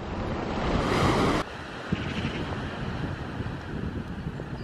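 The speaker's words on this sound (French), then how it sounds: "Avec les vagues et tout." Ocean surf washes steadily against the shore below the Howth cliffs in Ireland, a broad continuous roar with gusty wind buffeting the microphone.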